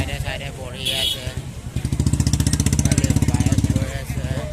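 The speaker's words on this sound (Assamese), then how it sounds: "বাইক গৈ আছে" A motorcycle engine putters past at a busy Sunday vegetable market in Hyderabad, Assam, its rapid steady pulsing rising close by for a couple of seconds before fading, with market chatter and voices around it.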